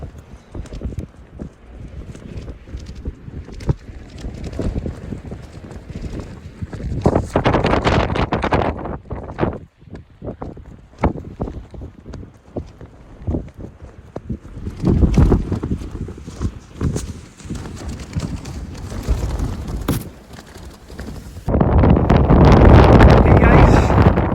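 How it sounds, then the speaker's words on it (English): Cold wind gusting over the Lake District fells near Cold Pike, buffeting the microphone in rough, uneven blasts that swell loudest toward the end. "it's going to be cold with that wind"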